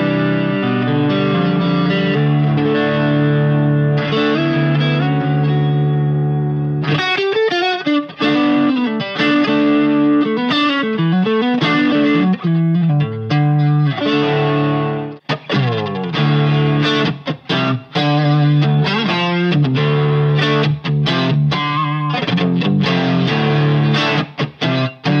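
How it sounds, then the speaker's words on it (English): Electric guitar played through a Walrus Audio Julianna chorus pedal on a normal chorus setting, with sustained chords and then busier strummed and picked passages, carrying a shimmering, wavering modulation throughout, loud and close with no talking. "if you want to get a normal chorus sound out of it, you just turn the knobs pretty much like in that direction"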